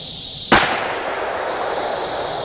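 A single sharp handgun shot rings out at a shooting range, loud and close, followed by a lingering echo tail.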